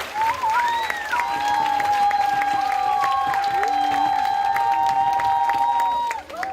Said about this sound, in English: boys and girls, let's give the Kleemans a big round of applause